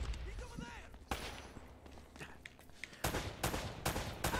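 AK rifle fire in the PS4 remaster of Uncharted: Drake's Fortune, several loud bursts of game gunfire with sharp cracks and echoing tails, with a voice talking and some quieter game sounds between shots.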